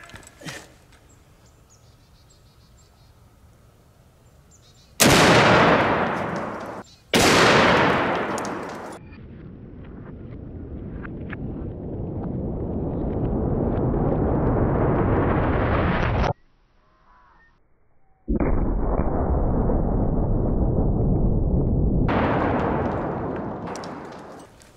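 Two heavy .50 BMG blue-tip incendiary rifle shots fired at a steel Olympic weight plate outdoors, each a sharp, loud blast a couple of seconds apart, followed by long, loud roaring rumbles. No one speaks.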